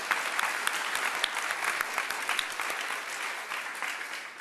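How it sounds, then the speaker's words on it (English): Applause from an audience at a press conference honouring the Social Tables team, a steady dense wash of many hands clapping close by, with sharper individual claps popping through and no talk over it. "So this is the only round of applause we'll do."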